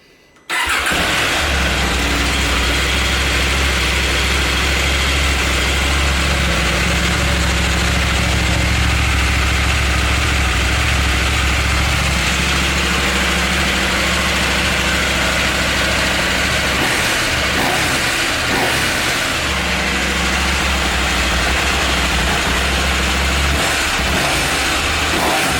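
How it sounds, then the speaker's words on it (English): A KTM 790 Adventure R motorcycle on its quiet stock exhaust starts up and settles into a steady, even idle, close and continuous with no voices. "So I'll start this up, give you a sound clip of the stock exhaust"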